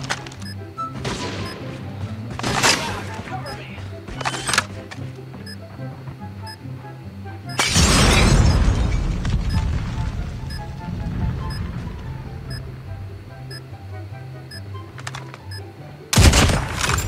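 Sniper rifle shots in a mobile shooter game, several sharp loud cracks spaced apart with one heavy burst mid-way and another near the end, over steady game background sound.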